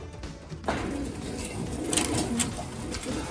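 Racing pigeons, Old Lowland Racing stock, coo softly in a loft, their low murmuring calls overlapping steadily under a faint background hiss, with a few brief sharper flutters and bird sounds near the middle.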